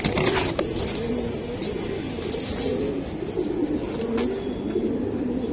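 Giribaz pigeons cooing close by in repeated soft throaty phrases, several birds overlapping in a steady rolling murmur with faint background noise.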